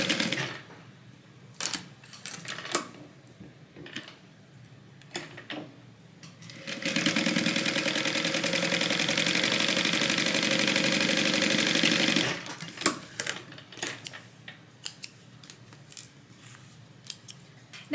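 A sewing machine back stitches a seam on a tote bag: a few short bursts of stitching, then one steady, loud run of about five seconds, then more brief stop-start bursts. No one speaks.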